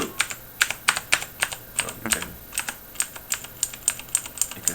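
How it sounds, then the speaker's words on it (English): Cherry MX Blue clicky tactile switches are typed on a mechanical keyboard, giving a fast, uneven run of crisp, loud clicks close by. Someone speaks a single word briefly. "Cherry blue is a clicky tactile switch, so there's a little bump when pressing, and there's a little click when you press it"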